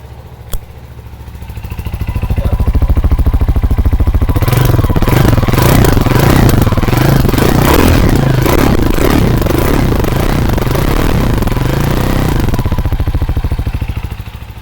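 A CFMOTO CLX 250 street motorcycle with its stock exhaust fires up after a sharp click, then runs loud and close with a steady, throbbing idle and some mechanical clatter, easing off at the end.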